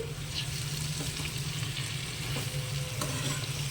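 Gongura leaves frying and being stirred in hot oil tempering for a Guntur-style gongura curry, a steady close sizzle with soft scraping stirs throughout and no talk.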